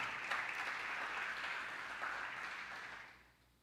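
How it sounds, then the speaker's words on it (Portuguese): Congregation at a church sermon applauds in a faint, distant wash of clapping that holds steady and then fades away. "Pode aplaudir"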